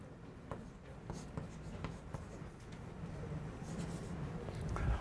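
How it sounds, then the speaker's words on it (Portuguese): Chalk or pen scratches and taps across a board during a university calculus lecture, faint and intermittent strokes over soft room noise, with no talk. "eu vou escrever assim."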